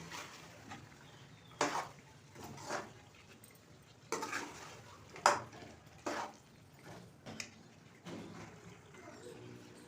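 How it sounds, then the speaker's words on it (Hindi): Thick-cut potato chunks are stirred and fried in a pot with meat for aloo gosht, a series of irregular metallic clanks and scrapes from a spoon against the pot over a faint sizzle. "तो अब हम इसमें आलू डाल देंगे और 2 से 3 मिनट तक आलू की भुनाई करेंगे।"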